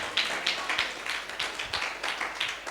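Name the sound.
audience clapping loudly at a church service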